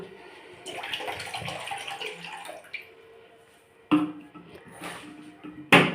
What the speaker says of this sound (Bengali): কড়াই জলটা দিয়ে দেই।